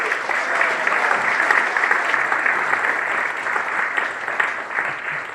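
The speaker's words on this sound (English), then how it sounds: "I would like everyone to give a round of applause to the Lightfoot Days Festival members" An audience claps for the board members of the Lightfoot Days Festival at a Gordon Lightfoot tribute event. The applause is loud, continuous and close, a thick roar of hands that holds steady for several seconds with no voices on top.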